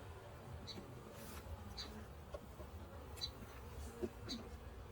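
Honey bees flying around an open hive during a split, a low steady buzz with occasional louder passes of individual bees close by, fairly faint with light handling noises.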